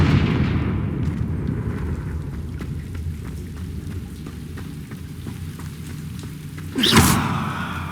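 A Confringo fire spell bursts in Hogwarts Legacy, one sharp loud blast near the end that rolls out over a steady crackling, rain-like rumble.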